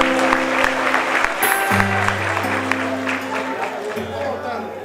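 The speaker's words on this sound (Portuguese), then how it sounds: "Dê uma salva de palmas para Jesus bem forte." A church congregation applauding loudly with strong, sustained clapping, while a sustained keyboard or organ chord plays underneath and voices call out over it.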